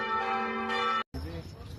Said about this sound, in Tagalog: Ayan na yung kampana, oh.